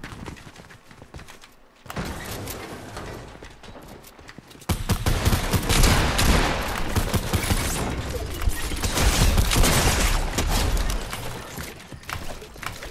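Gunfire in the Fortnite video game during a ranked duos match, a sustained stretch of dense, loud bursts and rapid shots that grows heavier after a short pause, with no talk over it.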